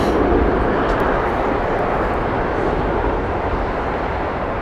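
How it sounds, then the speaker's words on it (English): A British Airways Boeing 777-200 on final approach at Heathrow Airport gives a loud, continuous broadband jet roar that stays close and steady, then eases off slightly toward the end. "British Airways next, 777-200 on final."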